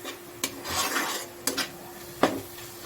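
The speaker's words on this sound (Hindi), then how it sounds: "तो इसी तरह से चलाते हुए मैं इसे 5 मिनट तक फ्राई करूँगी।" Spices for chole fry in a pan with a broad, even sizzle as a spoon scrapes and taps the pan three times in quick strokes, close and fairly loud.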